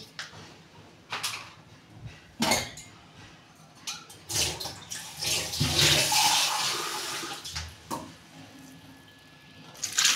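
Water poured in small amounts into a pressure cooker while cooking eggplant and tomato, a splashing, gurgling pour that swells in the middle and mixes with clinks and knocks from the kitchen.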